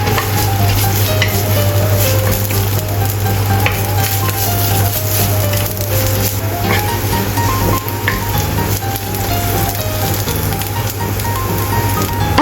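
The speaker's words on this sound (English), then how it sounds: "Stir-fry chopped ginger until release fragrant" Chopped ginger stir-frying in a pan, a loud dense sizzle with constant stirring and scraping, steady throughout and close, accompanied by soft background music and no voices.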